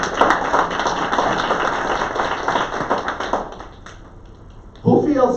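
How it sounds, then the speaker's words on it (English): Audience applause fills a sales and marketing meeting hall, a steady wash of scattered claps with some voices mixed in, fading briefly before a louder burst of clapping returns at the end. "Give me applause."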